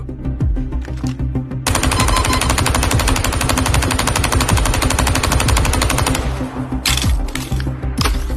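Sustained rapid automatic gunfire in a video game, a loud continuous rattling burst lasting several seconds, followed by a few shorter cracks near the end.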